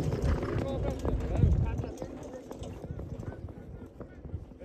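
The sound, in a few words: trotting horses' hooves during a trotter race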